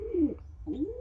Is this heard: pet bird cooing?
yes